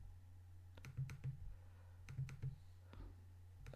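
A computer mouse double-clicks on a Windows Server 2016 PC, giving two pairs of soft, quick clicks a second apart over a low steady hum, quiet and close with no talking.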